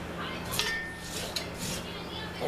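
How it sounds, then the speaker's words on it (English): A knife scraping the milky pulp from fresh corn cobs for creamed corn, a steady rasping scrape with a few light metallic clinks, close and alone. "I milk the corn. Get all that good milk out of the corn and just scrape my knife along"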